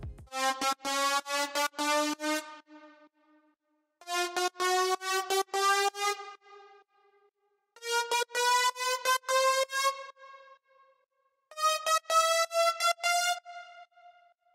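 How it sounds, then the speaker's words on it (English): Bright, buzzy synth lead from a future house drop made in FL Studio, with its pitch automated, playing four short bursts of rapid stabbed notes separated by gaps, each note gliding in pitch. "I added a lead sound where I automated the pitch."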